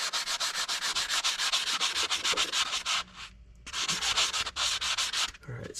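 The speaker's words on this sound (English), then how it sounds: "this is why I brought the sanding block" Rhythmic scraping strokes of a sanding block rubbing rusty metal on a 1972 Ford F100, fast and steady, close and loud, with a brief pause midway before the strokes resume.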